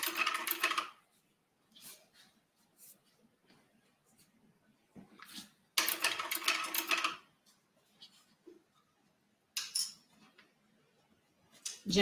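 A sewing machine stitches a bag strap and flap in short separate bursts of rapid whirring, each a second or so long, with quiet pauses between them.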